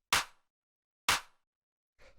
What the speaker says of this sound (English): just sort of your standard house clap